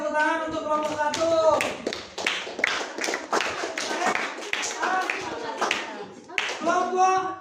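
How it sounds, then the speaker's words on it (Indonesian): A classroom group applauds a team of students: a burst of clapping from many hands, loud and close, rising and falling over several seconds, mixed with voices calling out. "Oke, tepuk tangan untuk kelompok 1."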